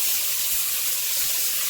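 Chicken and rice sautéing in a pot for Southern home cooking, a steady broadband hiss of frying with faint stirring scrapes, close and continuous with no talking.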